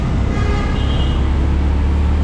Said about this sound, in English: So all the traffic goes underneath these pillars